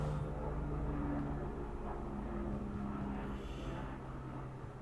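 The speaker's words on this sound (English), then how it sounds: "I apologise if you're hearing that helicopter or plane or whatever it happens to be." A helicopter or small plane flies overhead, its steady low engine drone filling the whole span as it passes, fairly loud and with no talking.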